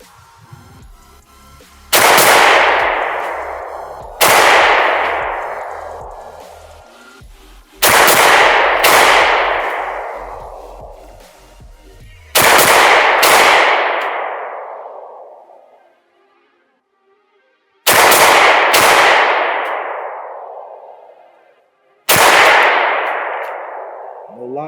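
A P07 pistol fired in single action outdoors: six loud, sharp shots spaced a few seconds apart, each followed by a long echoing decay, with no talking between them.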